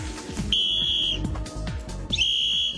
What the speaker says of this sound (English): It's easy to hear the whistle.